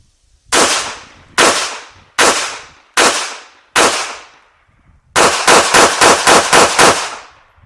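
A CZ Model 83 pistol firing .380 ACP rounds: five loud, sharp, separate shots with ringing decay, followed by a quick string of about seven shots in fast succession, close and clear.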